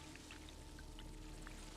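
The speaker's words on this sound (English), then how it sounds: "Spilled a bunch of water." Water pouring and spilling in the video game Dune Awakening, a quiet, steady splashing trickle with a few brief droplet plinks, faint and low in level, with no voices over it.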